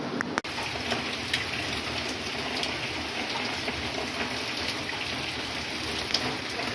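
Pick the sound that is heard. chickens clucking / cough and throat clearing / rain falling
rain falling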